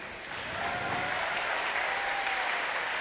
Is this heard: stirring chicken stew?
no